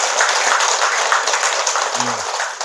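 Steady, dense applause from a seated audience at a Buddhist dharma talk in a temple hall, filling the whole stretch at an even level, with a brief low voice sounding near the end.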